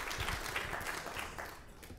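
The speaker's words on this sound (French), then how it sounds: "je vous propose qu'on l'accueille avec peut-être des applaudissements pour le remercier" An audience at a mental health conference gives a speaker a short round of applause, a soft, steady patter of many hands that fades slightly toward the end.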